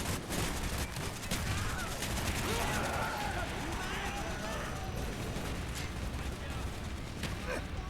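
Dense gunfire and explosions from an aerial strafing run in the video game Call of Duty Black Ops, a loud continuous barrage of shots and blasts throughout.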